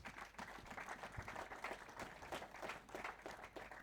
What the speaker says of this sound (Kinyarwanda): Muhaguruke dukomere Imana amashyi ku bwa bene data.